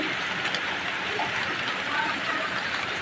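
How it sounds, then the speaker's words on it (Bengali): Steady, dense hiss of rain falling continuously, even and unbroken throughout, with no voices. "বৃষ্টি পড়ছে"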